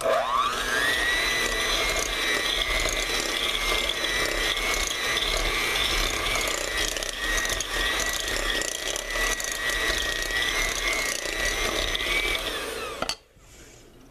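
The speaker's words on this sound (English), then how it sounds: "We're going to cream our butter and sugar together." An electric mixer creams butter and sugar for a pumpkin layered coffee cake, whirring steadily with a gritty, ratcheting mechanical buzz for about thirteen seconds before cutting off abruptly.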